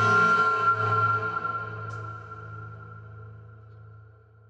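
A dark horror sound effect treated with EQ, reverb and delay: a dense, droning tonal texture with a deep low hum and layered harmonics, loud at the start and slowly decaying with a long reverberant tail, no voices.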